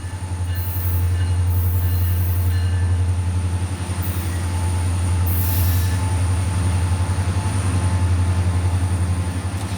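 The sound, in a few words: CSX rack train pulled by two GP40-3 locomotives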